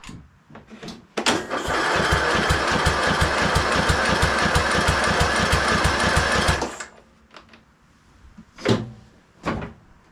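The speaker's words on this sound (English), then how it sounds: "We'll see if we can crank the engine over and maybe it'll fire off." A Husqvarna YTH2042 lawn tractor engine cranks steadily for about five seconds with a rhythmic starter chug, then cuts off abruptly, followed by a few faint knocks and clicks nearby.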